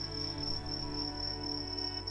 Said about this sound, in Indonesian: suara jangkrik berisik amat